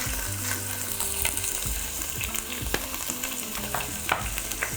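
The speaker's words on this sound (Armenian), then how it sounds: "Բովում ենք մառանիկ ընկերության կես թեյի գթալ համեմի սեր և 1 թեյի գթալ հատիկ սև պղպեղ" Coriander seeds, black peppercorns and a little sea salt dry-roast in a pan, giving a steady close crackle broken by repeated scraping stirs, with no talking.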